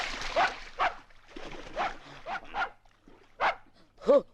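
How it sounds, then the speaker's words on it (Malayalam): A dog barks in several sharp, separate bursts at close range, with pauses between them and a final yelp near the end. "പട്ടിയായിരുന്നു"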